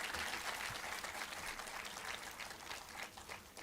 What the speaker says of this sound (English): I would request the audience to please give a huge round of applause for all the panelists